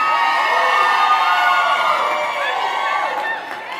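A large seated audience cheers and whoops loudly and steadily at a live talk, a dense wall of shouting voices that holds for several seconds before tapering slightly near the end.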